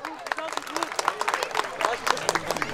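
Scattered, uneven clapping from a small crowd at a village picnic charity auction, fairly faint and sparse, with some voices mixed in.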